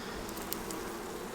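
Honey bees in an open hive, full of bees during a spring inspection, humming in a steady close drone with no talk over it.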